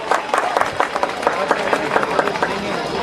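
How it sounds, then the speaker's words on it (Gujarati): An audience at a community student event applauds, a dense, steady patter of many hands clapping at moderate distance with no pauses. "તાળીઓ"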